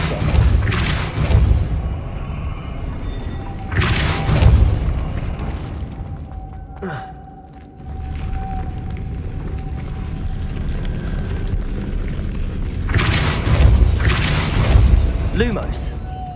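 A Depulso spell cast in Hogwarts Legacy bursts out as a loud boom with a crashing, shattering edge, followed by further heavy impacts and a rumbling game soundtrack.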